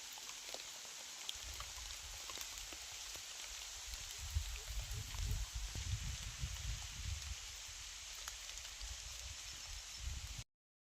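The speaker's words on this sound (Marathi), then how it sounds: "आता तर जरा मोठा पाऊस यायला लागला आहे" Heavy rain pours steadily over a sugarcane field during weeding, a dense continuous hiss of drops with low rumbling patter, sheltered under a lemon tree, lasting about ten seconds before cutting off.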